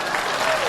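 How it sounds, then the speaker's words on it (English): A brief, dense wash of crowd applause, loud and continuous for under a second. "Please clap."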